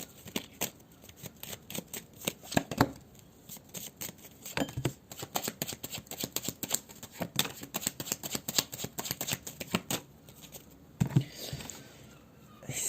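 Tarot-style cards being shuffled by hand during a card reading: a long run of quick, crisp riffling clicks, close and steady, with a few brief pauses.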